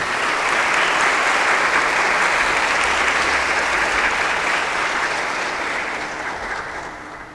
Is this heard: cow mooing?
no